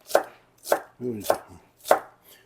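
A knife thinly slices vegetables on a cutting board beside eel and handmade dumplings, giving four sharp, close cuts at a steady, unhurried rhythm. A brief low scrape falls between two of the cuts. No one speaks.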